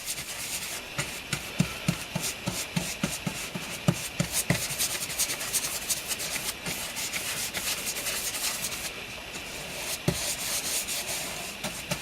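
A brush works parquet lacquer into a handmade wooden game board with close, repeated rubbing strokes, soft scratchy swishes in an irregular rhythm with occasional light taps, no talk.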